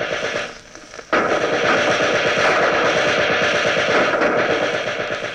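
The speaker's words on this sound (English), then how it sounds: "There is a steady light arms fire to our left." Steady light small-arms gunfire from a WWII battle on Bougainville, heard as a dense, continuous crackle of rapid shots, loud and sustained after a brief quieter start, with a radio-broadcast quality.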